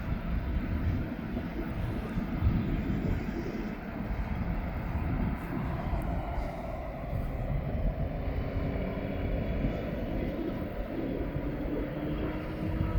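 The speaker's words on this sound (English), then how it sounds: "I should say the Jet2 Holidays aircraft that's coming in now" A Jet2 Holidays airliner coming in to land at East Midlands Airport, heard as a steady, broad engine roar that holds evenly throughout with no talk.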